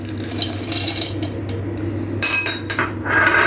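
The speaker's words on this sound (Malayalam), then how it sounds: "ഇനി കപ്പലണ്ടി ഇട്ട് കൊടുത്തു കേട്ടോ." Roasted peanuts tumble into a grinder jar with a run of light rattling clinks, close and clear over a low kitchen hum.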